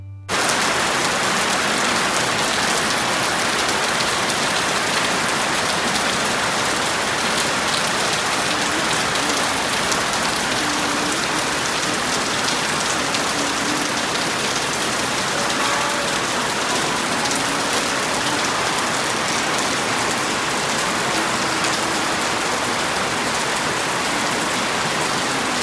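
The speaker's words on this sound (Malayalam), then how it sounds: "നല്ല മഴയാണ് കേട്ടോ. പുറത്തേക്ക് ഇറങ്ങാനേ പറ്റണില്ല." Heavy rain pours steadily outside a home, a dense, loud, unbroken hiss of drops on surfaces lasting throughout, with no voices.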